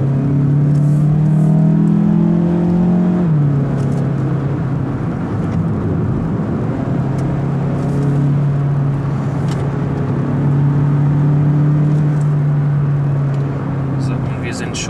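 A 2017 Mazda CX-3 with a 2-litre, 150 PS engine and AWD accelerates on the road, its engine drone climbing in pitch, dropping at a gear change, then rising again under steady cabin and road noise.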